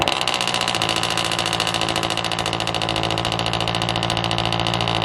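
A 2022 Subaru BRZ idles through an exhaust with practically no mufflers, full 3-inch piping and Tomei unequal length catless headers, giving a loud, close, steady burbling drone with a fast pulsing beat and no talk.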